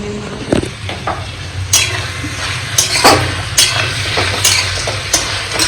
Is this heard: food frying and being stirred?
yes